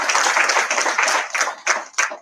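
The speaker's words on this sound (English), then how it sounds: "Please give him a round of applause and thank him for that." A small audience gives a round of applause for a speaker at a US consulate opening event, brisk close clapping that thins out into a few separate bursts before stopping.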